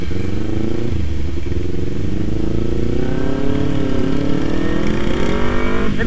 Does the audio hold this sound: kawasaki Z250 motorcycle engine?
yes